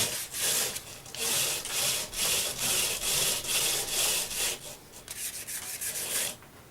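Rhythmic back-and-forth abrasive rubbing as spalted mango wood is wet-sanded on a lathe, steady strokes about twice a second, close and continuous with no talking.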